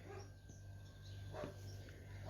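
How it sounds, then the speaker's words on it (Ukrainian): A dog barks a few times in the distance, short muffled yaps over a steady indoor hum. "чого Захарій це гавкає?"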